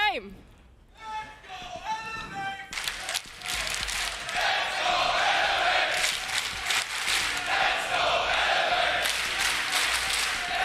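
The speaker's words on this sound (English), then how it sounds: "the crowd cheering for Elevate" Crowd at a Six Berlin Major Rainbow Six esports quarter-final roaring and cheering for team Elevate, a dense sustained wall of cheers swelling after a brief lull, with announcer commentary over the top.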